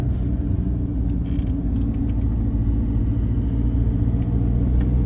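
A car climbs steep mountain serpentine roads, its engine a steady low rumble heard from inside, continuous and fairly loud throughout with no talk.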